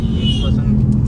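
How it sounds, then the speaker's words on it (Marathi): Dense traffic on a ghat road near Ekveera temple during a palanquin festival, heard as a steady, loud low engine rumble and road noise that continues without a break, with a voice speaking over it. "खूप सारी ट्रॅफिक झालेली आहे आता इथपासून गाड्या लागलेल्या आहेत"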